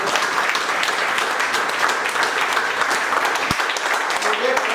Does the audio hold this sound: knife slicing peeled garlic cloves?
no